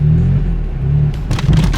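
A BMW F80 M3 engine revs as the driver presses the gas during a stick-shift lesson: a loud, close, low rumble that climbs into a rising rev near the end, with no talking.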